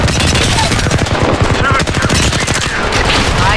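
Loud, rapid automatic gunfire in the video game Apex Legends, dense bursts of shots filling the whole stretch.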